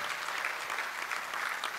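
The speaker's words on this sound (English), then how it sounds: "Please, louder, louder clap, louder" An audience at the annual general and scientific meeting of a Ghanaian medical college applauds its guest of honor with steady, continuous clapping that fills the room without a break.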